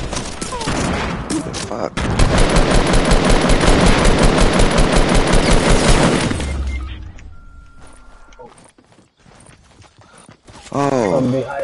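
Gunfire in the video game Fortnite: a long, dense burst of rapid automatic shots that cuts off abruptly, followed by scattered clicks and shorter bursts, with people talking loudly over it.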